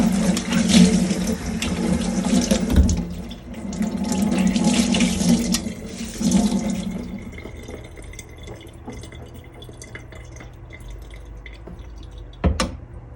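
A cloth is washed under running tap water in a home kitchen while making cheese, with water splashing into a sink for several seconds, then thinning to drips and a few small clatters.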